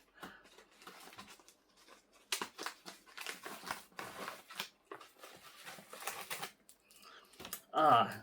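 Small paper envelopes from a Mercari purchase are handled and torn open, giving quiet crinkling and rustling in irregular bursts, close by, with a sharper crackle near the end.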